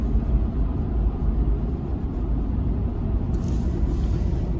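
A Ford Super Duty pickup with the 7.3-liter gas V8 cruises around 45 mph in ninth gear, a steady, quiet low engine and road rumble heard from inside the cabin.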